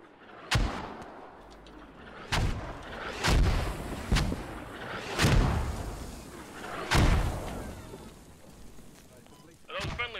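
Mortar shells exploding in the video game Squad, six heavy booming blasts spaced every second or two with rumbling tails, some near and loud, others more distant, with players talking between them.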